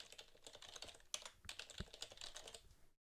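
Rapid, close key taps on a computer keyboard as a password is typed, a steady run of clicks with a couple of sharper strokes, stopping abruptly into silence at the end.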